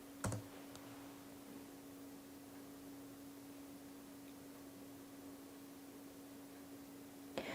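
Typing a web address on a computer keyboard, a few faint, scattered key taps at the start and end over a steady hiss and a low electrical hum, with long quiet stretches of background noise between them.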